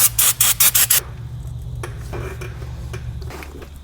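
Brake cleaner scrubbed over Honda Pilot engine parts near the oil filter housing: about five sharp, close rasping strokes in the first second, then a quieter stretch of faint scraping and handling noises.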